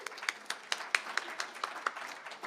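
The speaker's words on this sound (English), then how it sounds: "let's give another round of applause to Mel" An audience at a demo day claps in a loose, sparse pattern, individual claps distinct and fairly close, a modest round of applause from a smallish crowd.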